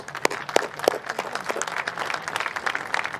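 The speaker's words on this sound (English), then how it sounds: "Let's get a round of applause for Michael Buffer" Press conference audience applauding announcer Michael Buffer ahead of a light heavyweight boxing card, a short burst of mixed clapping with a few sharp close claps standing out over a crowd patter.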